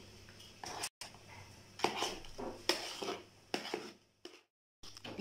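Nougat ice cream spooned into a mold, a series of soft scrapes and light clinks of a utensil against the container, close and quiet, spaced out with brief pauses and no talk.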